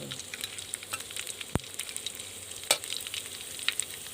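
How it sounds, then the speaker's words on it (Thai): Pork rinds frying in oil for a northern Thai chili dip, with a steady soft crackle and hiss alongside a couple of sharp clatters, close by and fairly quiet, no talking. "เดี๋ยวเราก็รอรอทอดแคบหมูก่อน"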